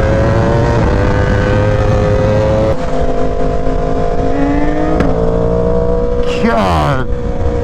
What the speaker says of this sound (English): I've never heard an S1K pop like that. That sounds like a shotgun going off.